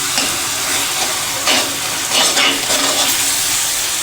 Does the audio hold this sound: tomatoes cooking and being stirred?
yes